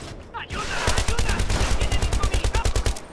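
Rapid automatic gunfire in the Battlefield 3 video game, a fast run of loud, close shots in steady rhythm following a brief lead-in.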